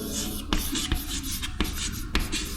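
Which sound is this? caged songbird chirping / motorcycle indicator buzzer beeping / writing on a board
writing on a board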